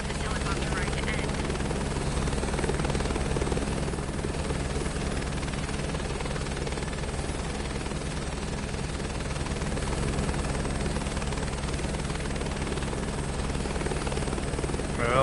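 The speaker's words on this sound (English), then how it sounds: "I don't want this helicopter ride to end." A helicopter in Microsoft Flight Simulator 2024 drones steadily throughout, its rotor thrumming constantly and loudly, as if heard from inside the cabin.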